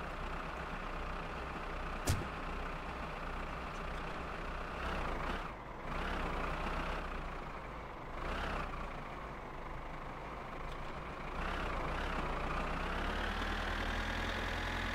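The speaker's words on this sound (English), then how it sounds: "Tractor is moving." A tractor engine in the driving game My Summer Car runs steadily and fairly loud, its drone rising and falling slightly as it moves, with a brief sharp click near the start and no talking.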